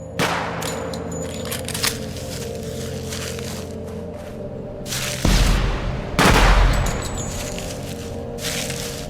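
Rifle gunfire in the shooter game Project Silverfish, a few sharp shots ringing out against a steady background hum, two louder booming reports near the end, close and loud with no talking.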